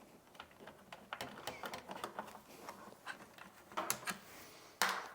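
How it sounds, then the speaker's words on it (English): Mini screwdriver backing two small screws out of the top of a 4Runner dash head unit, making faint close ticks and scrapes with a sharper clack near the end. "that's where you need this mini screwdriver. There's just 2 screws up on top. Take each one of those out."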